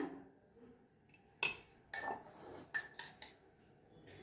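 A spoon clinks against dishware as curd and red chili powder are spooned in for a spiced corn dish, several sharp, close clinks spaced over a few seconds, with no talking.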